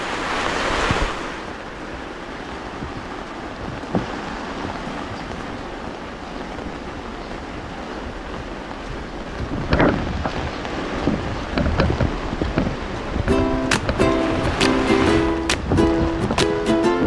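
Floodwater rushes steadily after nonstop heavy rain, a loud broad roar that continues throughout, with a few brief tonal sounds near the end.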